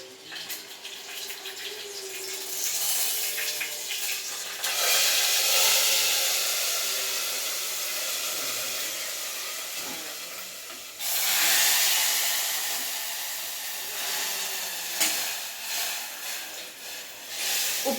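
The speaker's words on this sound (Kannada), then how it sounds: "ಒಗ್ಗರಣೆನ ಇದರಲ್ಲೇ ಹಾಕ್ಬಿಡೋಣ ಆಯಿತಾ" Tempering poured into simmering potato, brinjal and chilli sambar bursts into a loud hiss and sizzle that swells, fades, then surges again, steady broadband frying noise without any talk.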